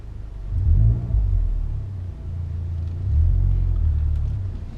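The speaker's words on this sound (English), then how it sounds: "the exhaust sound makes this whooshing thing that's really cool, and that's because it has the 3-port exhaust on it" Heard from inside the cabin, a Honda Civic Type R with a three-port exhaust at Eagles Canyon Raceway gives a deep engine rumble that swells as it revs, then settles and builds again, steady and loud.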